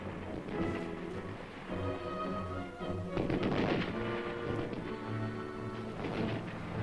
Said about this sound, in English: Due to machine gun and mortar fire from infiltrated enemy troops, the convoy halts.